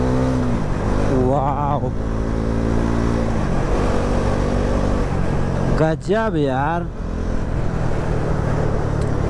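Bajaj Pulsar NS400Z motorcycle ridden in sport mode, engine droning close under a rider's excited remarks, with sharp rising revs and wavering acceleration surges around the middle.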